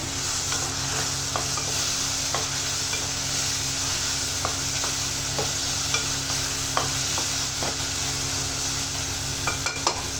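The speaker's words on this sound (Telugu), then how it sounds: "2 మినిట్స్ తర్వాత టమాటాలు కొద్దిగా మళ్ళీ కలుపుకోవాలి." Chopped tomatoes for brinjal curry stirred in a hot pan, a spoon scraping and knocking in an irregular rhythm over a continuous sizzle and steady hum, close up, with no voices.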